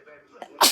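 A person with a cat allergy gives one sharp sneeze right after a brief breathy wind-up, close and fairly quiet overall.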